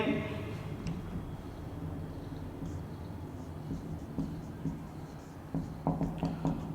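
Writing on a classroom board during an electrochemistry lecture gives soft scratchy strokes and small taps over a low, steady room background, with a cluster of sharper marks near the end.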